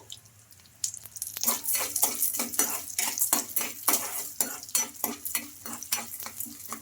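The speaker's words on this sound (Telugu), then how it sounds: "అదే కడాయిలో కొంచెం ఆయిల్ అయితే వేసుకోవాలి ఇందులోకి ఒక స్పూన్ దాకా పచ్చిశనగపప్పు కూడా వేసుకోవాలి" Chana dal and urad dal fry in oil in a kadai, giving a sizzle under a rhythmic run of spoon scrapes and clanks against the metal pan, close and fairly loud, starting after a quiet opening second, with no talk.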